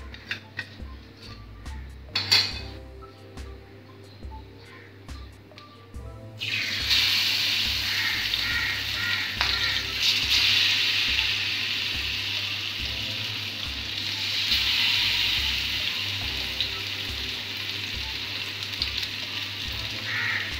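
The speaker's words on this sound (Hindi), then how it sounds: "मैं अभी इसमें मच्छी फ्राई करने के लिए डालता हूँ" Fish is laid into hot oil in a home pan for a restaurant-style fish fry, and a loud, continuous sizzle takes over after a few seconds of quiet kitchen clatter, with a faint rhythmic hum underneath.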